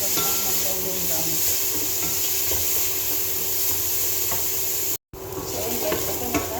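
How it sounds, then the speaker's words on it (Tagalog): Food is sautéed in a pan until golden brown for lunch. A steady, close sizzle and hiss continue with occasional stirring clinks, then drop out briefly before the frying resumes. "Isa lang natin siya hanggang mag-golden brown."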